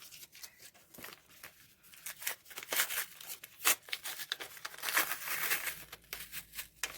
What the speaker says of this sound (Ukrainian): І ось наш пакетик відкриваємо.